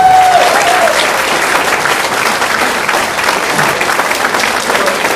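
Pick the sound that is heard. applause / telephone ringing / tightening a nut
applause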